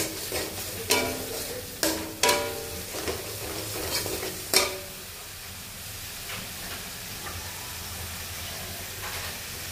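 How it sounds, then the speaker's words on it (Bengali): Spice masala for pasta frying in a pan, with several sharp spoon scrapes and knocks early on over a sizzling hiss that continues quietly on its own afterward. "মশলাটাকে ভালো করে একটু ফ্রাই করে নিচ্ছি।"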